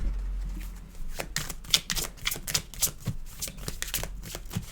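Tarot cards being shuffled by hand, a brisk run of riffling, slapping card flicks that carries on throughout, close and fairly loud.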